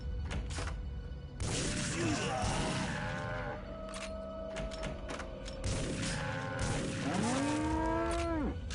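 Zombie cow carcasses in TimeSplitters: Future Perfect moo repeatedly in long, low, drawn-out calls that overlap and bend in pitch, loud and close, with thuds and game noise between them.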